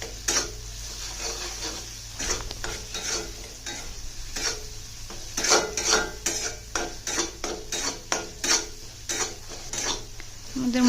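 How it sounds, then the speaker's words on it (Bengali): Ground spices frying with salt in a pan for a pangas fish curry, loud close sizzling broken by repeated rhythmic scrapes and clanks of a spoon stirring against the metal pot. "লবণটা দিয়ে আবারও মশলাগুলোকে ভেজে নিব।"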